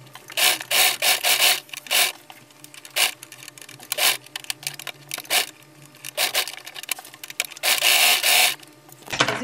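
A sewing machine runs in bursts of varying length while stitching the armpit seam of a wrap top, its buzzing close and fairly loud, with short pauses between runs and no talking.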